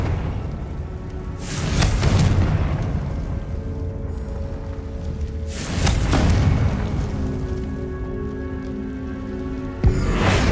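Confringo fire spell in Hogwarts Legacy bursting into loud explosive booms, two big blasts with rumbling tails over a low game ambience, and a sharp hit starting at the very end.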